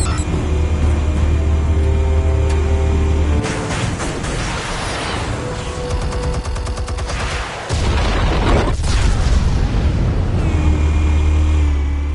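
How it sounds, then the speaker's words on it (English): Explosions and blasts from the video game Batman The Telltale Series: loud, booming, gunfire-like bangs that keep going over a dense, rumbling action soundscape. "Explosives armed. Fire when ready."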